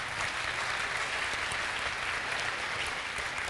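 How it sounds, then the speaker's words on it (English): Steady audience applause fills a large hall at Apple's WWDC 2001 keynote session, a dense, even wash of many clapping hands sustained throughout at moderate loudness. "Feel free to applaud."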